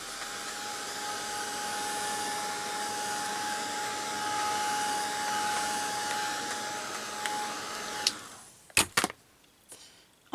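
A heat tool blows steadily while drying paper craft work on a decorated winter album cover, a loud continuous whir with a faint tone, shutting off near the end and followed by a few sharp clicks and knocks.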